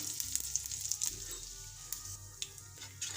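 Mustard seeds, cumin, asafoetida, turmeric and curry leaves crackle in hot oil for an onion-tomato shaak, a quiet, close sizzle with sharp pops and faint stirring.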